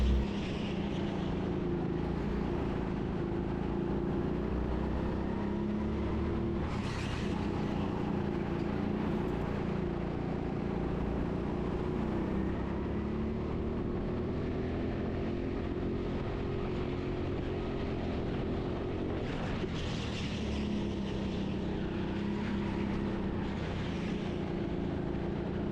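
A go-kart's engine runs through a lap at the TeamSport Sheffield indoor track, a steady droning hum that rises and falls with speed, heard continuously and fairly close with no talk.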